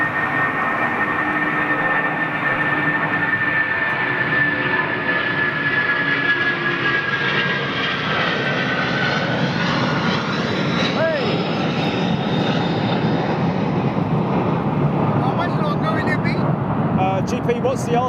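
A Boeing 747 jet takes off at London Heathrow, its engines a steady, heavy roar that stays loud throughout, with a tone shifting slowly as the aircraft climbs away.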